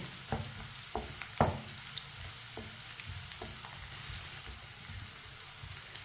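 Finely chopped onions fry in oil while a spoon stirs them, giving a soft continuous sizzle with several distinct scraping knocks early on that taper to gentler stirring.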